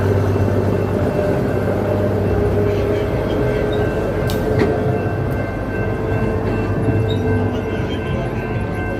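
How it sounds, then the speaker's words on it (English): An amusement park train ride at Six Flags America rolls along with a steady loud rumble and hum of its cars, joined by a couple of sharp metallic clicks midway, with no clear talking. "you can get a really great view of Superman from the train if you're riding on it."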